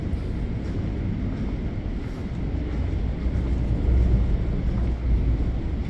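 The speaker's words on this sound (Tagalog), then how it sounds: "Malakas yung hangin kaya nakuha naman." Strong wind on a RoRo container ship's bridge buffets the microphone in a continuous low, rumbling roar that swells slightly, with no voices.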